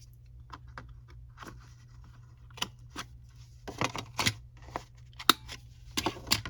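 A corner rounder punch cuts through paper corners while making mini file folders: a series of sharp, close snips and crunchy clunks, sparse at first and then bunched in quick succession over a faint steady hum.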